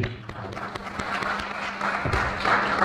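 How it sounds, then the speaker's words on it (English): An audience at a program event at the Islamic Institute of Dakar applauds the program's collaborators, with steady, fairly close clapping from many hands that swells slightly toward the end. "Veuillez les applaudir."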